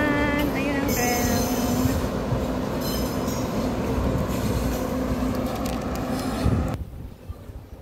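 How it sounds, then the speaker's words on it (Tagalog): A passing train by a river and flyover, loud and steady with clattering wheels and a high metallic squeal, running alone without talk until the noise abruptly drops away at the end. "Ayan ang tren. Dumaan."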